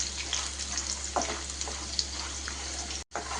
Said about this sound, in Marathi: तर आता आपण बटाटा आणि शेंगदाणा मस्तपैकी तेलामध्ये परतून घेतोय।